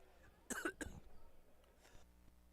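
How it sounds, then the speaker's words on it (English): A commentator at a high school basketball game gives two sharp coughs in quick succession, fairly close, followed by quiet background noise. "Got a little bit of a cough."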